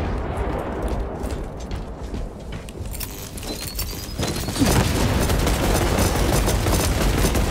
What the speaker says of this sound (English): Shock grenade out.